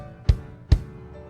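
Two evenly spaced low percussive strikes demonstrating a Japanese traditional rhythm in 2/4 time, each a short, punchy drum-like hit ringing briefly before fading.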